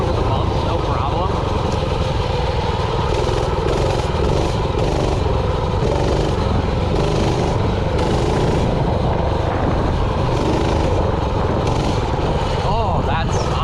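Small engine of a restored Coleman B100 minibike running continuously on a test ride over bumps, a steady close buzzing drone with wind rush throughout and no talk.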